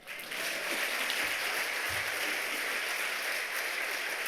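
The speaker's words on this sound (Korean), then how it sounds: "하나님께 영광의 박수." A church congregation at an evening revival service applauds together, a steady, dense wash of clapping that holds evenly for several seconds with no talk over it.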